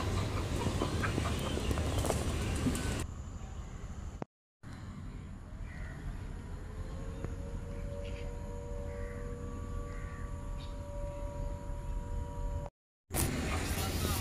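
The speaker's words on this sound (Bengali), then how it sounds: "মসজিদের চারিপাশে এরকম অনেক মুরগি" Chickens and roosters cluck and a few calls rise over a steady background hum around a village mosque in Sembawang, Singapore, moderately near, with the sound briefly cutting out twice.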